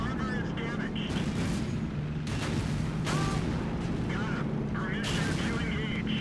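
Tank cannon shots boom in the World of Tanks video game, several heavy blasts over a rumbling battle background while someone talks throughout.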